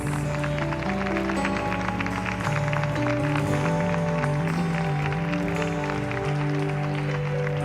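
Church congregation applause during a Portuguese-language sermon, a dense, steady patter of clapping under loud sustained organ or keyboard music that dominates throughout.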